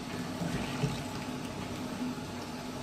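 Water runs steadily into a measuring cylinder of a fluid statics apparatus through a slowly opened valve, a constant moderate trickling and rushing flow with no speech.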